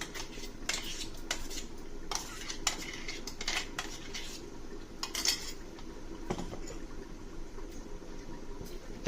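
Tomato puree goes into a small-fish masala curry in a pan, with steady clinks and scrapes of a metal spoon against the pan and a soft simmering bubble underneath, close up and fairly quiet, no voices.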